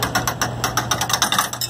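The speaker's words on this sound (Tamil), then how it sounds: "ஸோ நம்ம வந்து ப்ரெஸ் பண்ண ரொட்டேட் பண்ண என்ன ஆகும்னு சொன்னால், நல்லா டைட் ஆகும், அந்த காயின் வந்து ப்ரெஸ் ஆகிறது நமக்கு தெரியும்." Souvenir coin press at a zoo cranked by hand to flatten a cent, a rapid run of about a dozen sharp ratcheting clicks in even rhythm over a low steady hum, close and clear.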